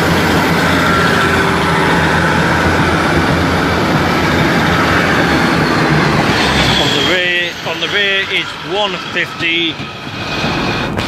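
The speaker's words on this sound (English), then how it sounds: "Here comes the charter train working from Carnford to Holyhead. And the charter train is called the Royal Scot." The Royal Scot charter train, bound for Holyhead, rumbles loudly and steadily past a station platform, a broad roar that fills most of the stretch before easing, with a brief voice near the end.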